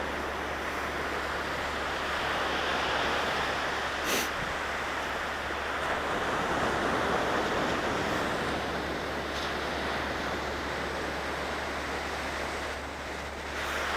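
Surf and wind at a Virginia beach wash over a walk, a steady broadband roar of breaking waves with gusty microphone buffeting throughout, no voices.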